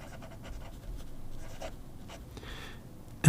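Broad number 6 steel Schmidt nib scratching across paper, soft close strokes and rustles in an irregular rhythm, ending in a sudden louder knock.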